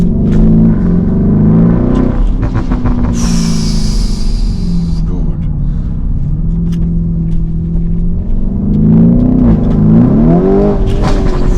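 A loud, deep Lamborghini sports car exhaust with its valve open burbles and revs nearby, with a brief sharp high whine midway, while a voice speaks briefly over it.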